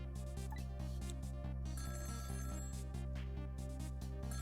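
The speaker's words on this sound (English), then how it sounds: "the phone rang." A telephone rings in the Ghost Trick: Phantom Detective video game, a steady repeating electronic ring pulsing about twice a second over a constant musical drone, loud and close with no talking.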